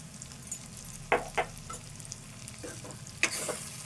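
A spoon scrapes and stirs roasted coriander powder into an eggplant and dried fish curry in a pan, with a faint sizzle underneath. A few sharp clinks stand out over a quiet, low background.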